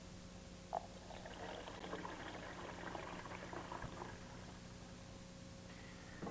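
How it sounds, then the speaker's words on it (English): Fresh cold water runs into the 96-ounce tank of a Starbucks Barista home espresso machine, a steady soft gurgling and trickle that stays quiet and close against a faint constant hum. "we're going to need to fill the water tank, all 96 ounces, with fresh,"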